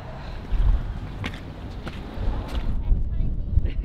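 Wind buffeting a microphone during a road trip toward the Scottish Highlands, a steady low rumble with gusty bursts throughout, heard alongside some talking.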